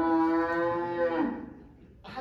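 A single long, loud cow moo, harmonic and sustained, drops off in pitch and tails away, followed by a brief noise at the end.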